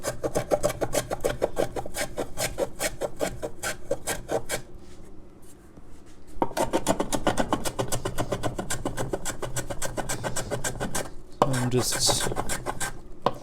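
A tool rasps repeatedly against the wood of a guitar body, scraping away excess binding in fast, steady strokes up close, with a short pause midway and one brief louder scrape near the end.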